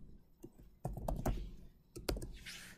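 Close computer keyboard typing as code is entered: a few scattered keystrokes followed by two quick clusters of clicky taps, with a brief soft rustle at the end.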